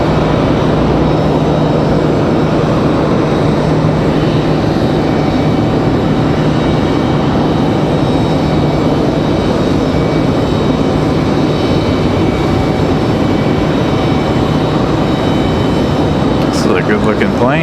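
Airplane passing at Raleigh-Durham International Airport, a loud, steady broadband engine roar filling the whole stretch without letup, close and dominant.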